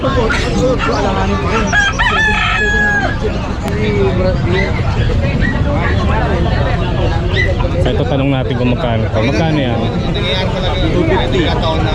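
Bantam roosters crow repeatedly amid a busy outdoor bird and animal market din in Bocaue, Philippines, with people talking loudly nearby throughout.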